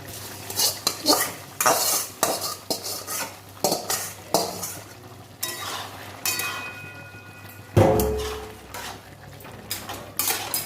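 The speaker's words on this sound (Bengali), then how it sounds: "লাউ সেদ্ধ হয়ে গেছে আমি চিংড়ি মাছটা ভেজে রেখেছিলাম দিয়ে দিচ্ছি" A spoon scrapes and stirs fried prawns into cooked bottle gourd in a pan, giving repeated close clanks and scrapes over a soft background sizzle, with one louder knock partway through.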